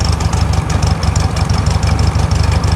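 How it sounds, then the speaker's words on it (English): A 1964 VW Beetle with a 1600cc engine idles low and close by, a loud throbbing chug with a steady pulsing rhythm and rattly mechanical ticking on top. "as you can hear, probably, she has a substantially lower idle."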